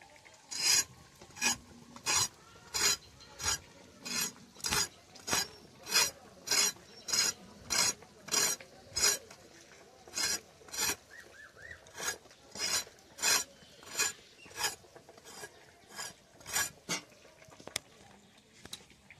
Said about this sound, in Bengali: এখন চিচিঙ্গা কাটবো, আলু কাটবো।